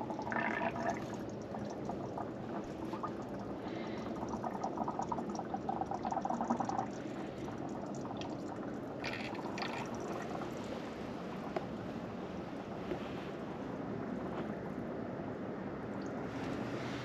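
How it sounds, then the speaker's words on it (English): Antifreeze poured into the radiator of a 1964 Rambler Ambassador 990, a steady trickling, gurgling liquid flow that continues for the whole stretch at moderate level, close by and with no voices. "I need to put antifreeze in this because I don't want to start it dry"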